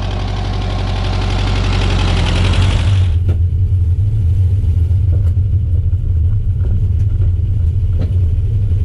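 An old Volkswagen Beetle without turn signals drives a lap, its air-cooled engine rumbling loudly and steadily up close, with a brighter rising whine in the first few seconds before settling into a low drone.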